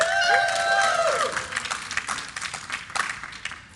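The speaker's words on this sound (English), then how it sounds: "Let me hear you guys cheer in the audience." An esports tournament audience in Atlantic City cheers for CLG, a loud crowd roar with whistles and shouts that breaks into a scatter of claps and whoops.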